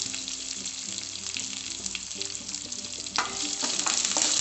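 Chopped curry leaves, ginger and garlic frying in hot oil for a masala dosa filling, a steady close sizzle with stirring scrapes that grow louder near the end.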